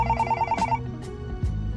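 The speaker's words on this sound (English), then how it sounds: "when the phone rang." A hotel room telephone rings with a short burst of rapid, beeping electronic tones, then falls quiet against a low background hum and faint thuds.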